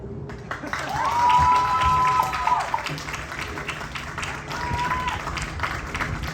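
An audience claps for a high school marching band at a preview show, a broad, steady wash of applause lasting several seconds with crowd noise and a sustained tone underneath.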